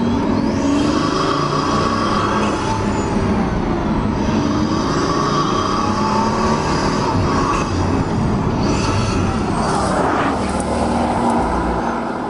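Pagani Huayra hypercar accelerating hard, its engine roaring continuously with wastegate chatter and rushing wind noise, loud and close for the whole stretch with no voices.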